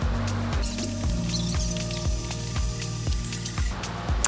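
Barr framing chisel pushed back and forth on a wet water stone, a regular rhythmic wet scraping repeated about eight times in close succession, near and alone without talk.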